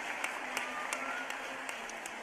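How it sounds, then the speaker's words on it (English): Audience at a teacher of the year celebration claps in a brief, steady burst of applause, moderately loud and fairly even throughout. "let's give her, but also Miss Laura Lamb, a big round of applause."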